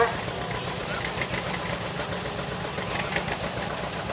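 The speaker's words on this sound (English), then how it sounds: "Then we have a John Deere A." A 1951 John Deere A tractor, pulling a New Holland baler in a thresheree parade, runs steadily with a low engine chug throughout, mixed with outdoor crowd noise and people talking nearby.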